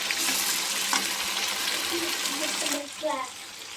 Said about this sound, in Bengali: এই যে মাংসটা কষানো হচ্ছে দেখো